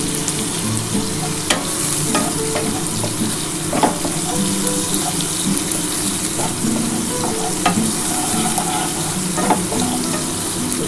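Chopped onion sizzles in hot oil in a pan for moong dal with fish head, a steady close frying hiss broken by occasional stirring clinks and scrapes, with no talk.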